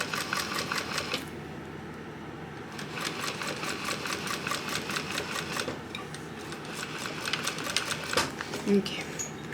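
A sewing machine top stitches a crossbody bag with a long stitch length, running in rhythmic, close, mechanical bursts with short pauses, while a person talks over it.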